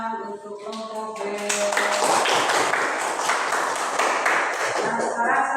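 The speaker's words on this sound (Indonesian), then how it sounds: "Tepuk tangan untuk kelompok B." Classroom applause for a student group: a burst of hand clapping from many children that builds after a voice and continues steadily, loud and close, with some chatter mixed in.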